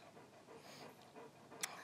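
Faint, quick panting from two dogs, steady and soft at a distance, with no voices.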